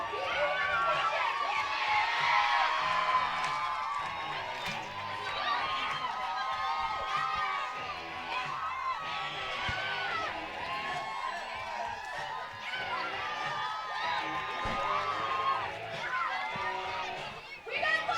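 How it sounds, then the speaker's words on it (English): Crowd at Burning Arbor Stadium during a 6th inning t-shirt toss at a Hamilton Cardinals vs Brantford Red Sox baseball game, loud continuous cheering and shouting with children's voices, mixed with chatter and nearby talk. "Emily's got the crowd in full effect. They're very loud and very vocal this evening"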